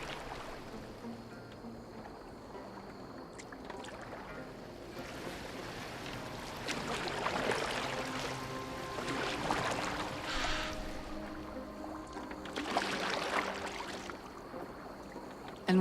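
Boat gliding over water in Assassin's Creed Valhalla, a soft continuous wash and lapping of water with gentle swells of splashing, fairly quiet throughout.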